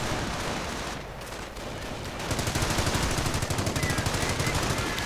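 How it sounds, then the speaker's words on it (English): A heavy machine gun fires in a World War II video game battle against Panzer Grenadiers: a dense, continuous rattle of rapid shots that gets louder and more sharply rhythmic midway, amid other battle noise. "Heavy machine gun setting up to support them."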